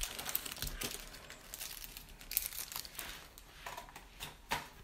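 Trading card booster pack wrappers are unwrapped, giving a steady run of soft crinkling and tearing foil plastic close to the mic, with a few sharper crackles and no talking.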